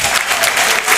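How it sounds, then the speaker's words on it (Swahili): Loud, dense clapping from an audience at the Miruri Awards ceremony, a burst of hands filling the room, close and continuous throughout. "Tupigie makofi"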